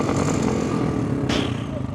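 Motorcycle engine revving at the start of a riding day in Sri Lanka, a loud, close, continuous drone that rises and swells with a brief sharp burst partway through.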